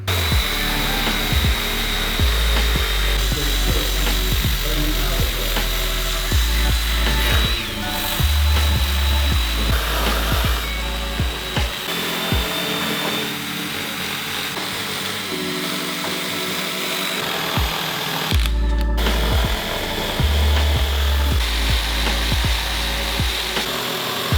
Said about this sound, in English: So I'm going to start with stripping the roof down now.